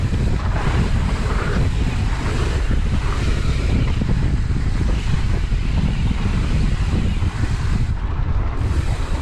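Steady, loud headwind roars across the microphone while cycling in Rotorua, a continuous buffeting rush with no breaks and no voices.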